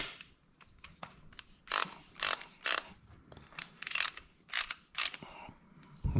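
A restored Proto 5449 half-inch ratchet with a socket fitted clicks in short bursts of rapid pawl ticks, separated by brief pauses, close and crisp with no talking.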